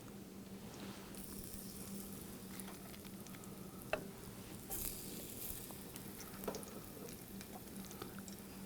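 Spoonfuls of batter frying in a hot pan give a soft, continuous sizzle with faint crackles and a few light clicks and scrapes, fairly quiet and close.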